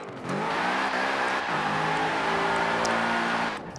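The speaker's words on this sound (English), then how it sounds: "Good burnout." Stock 2013 BMW M6 Coupe doing a tire burnout in Forza Horizon 4, a sustained loud engine roar with layered harmonic whine holding steady for several seconds, no talk over it.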